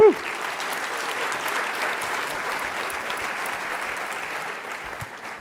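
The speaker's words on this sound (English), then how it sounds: "Give him a round of applause." Audience at a startup pitch competition breaks into applause, a full, even roar of many clapping hands that holds steady and slowly eases off, with a brief voice at the very start.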